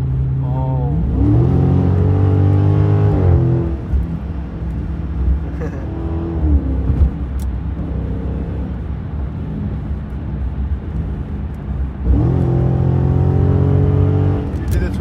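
A Dodge Charger Scat Pack with a 392 Hemi pulls hard on a highway, its engine roaring loud and rising in pitch through two full-throttle runs, with people talking over the steady cruising drone between them.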